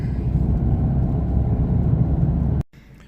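A Vauxhall Corsa E 1.3 CDTI with a reduced-power engine fault drives along, giving a steady low engine and road rumble close by that cuts off abruptly near the end, leaving a quieter background.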